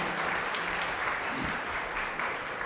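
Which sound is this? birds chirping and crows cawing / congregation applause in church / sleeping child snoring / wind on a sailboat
congregation applause in church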